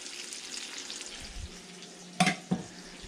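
A ribeye steak searing in butter in a pan gives a steady, soft sizzle, then two sharp, louder bursts near the end as the meat is shifted.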